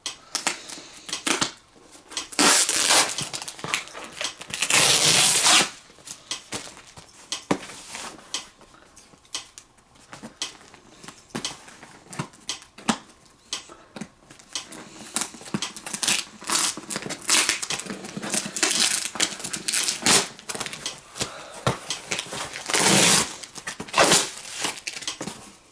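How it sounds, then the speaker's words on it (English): Plastic and cardboard packaging of a Yaesu FT-4XR handheld radio torn open by hand without scissors, a close run of crinkling, ripping and rustling bursts with short pauses, continuing throughout with no talk. "I may not even need scissors to be able to open this"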